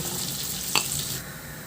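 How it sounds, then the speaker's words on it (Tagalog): Cubed tofu fries in a pan of oil, a steady close sizzle and crackle with one brief louder spatter. "Isunod ko na rin iprito yung tokwa na hiniwa ko lang ng pa-cubes"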